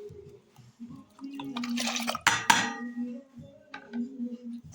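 Water is poured into a pot to prepare a herbal hair spray, with a brief splashing burst near the middle under a person speaking close by.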